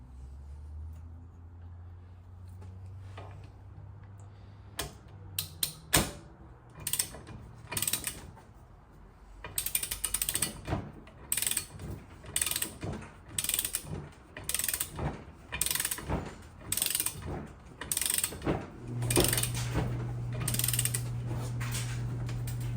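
Wrench ratcheting as a Sea-Doo jet pump bolt is torqued to 92 foot-pounds: a close run of sharp mechanical clicks and creaks, sparse at first and then quickening into a dense rhythmic series, ending under a steady low hum.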